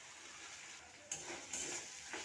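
Pre-fried shrimp dropped into a pan of cooked-down spice masala, setting off a soft sizzle that swells in two bursts, with light stirring scrapes and no talking.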